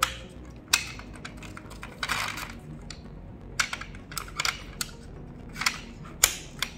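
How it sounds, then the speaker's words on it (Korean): Parts of a large banner frame stand click and snap into place during assembly, heard as a string of sharp, close plastic clicks and knocks spaced irregularly over quiet. "이 방향 말자로 되게 눌러주면 딸깍하고 튀어나옵니다."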